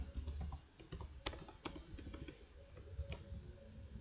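Fingers type on a computer keyboard, producing a steady patter of soft, close clicks with a few sharper key strikes, heard alone without speech.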